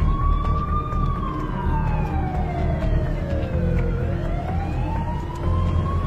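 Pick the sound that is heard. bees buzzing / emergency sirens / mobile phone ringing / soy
emergency sirens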